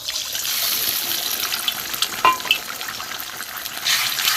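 Egg mixed with turmeric poured into hot oil in a pan, giving a close, continuous sizzle with a few wet bursts and stirring noises and no talking.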